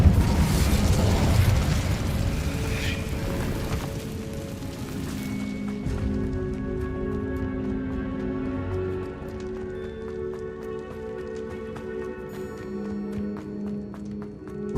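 An Incendio fire spell cast in Hogwarts Legacy bursts out as a loud, rushing, crackling blast for about five seconds, then fades into sustained game music tones.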